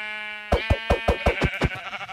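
A Minecraft sheep bleats in a quick run of about eight short, wavering cries, close and fairly loud, with a faint steady hum beneath and no talking.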